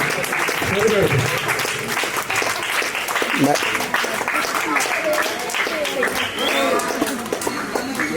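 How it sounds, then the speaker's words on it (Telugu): Sustained applause from a crowd at a birthday celebration, dense and steady throughout, with voices calling out over the clapping. "గట్టిగా క్లాప్స్ కొడదాం"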